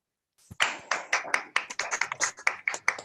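A small crowd claps at a school annual function, a burst of brisk, uneven hand claps starting abruptly after a brief silence and continuing close and lively to the end.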